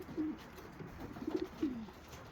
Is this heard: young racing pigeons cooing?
yes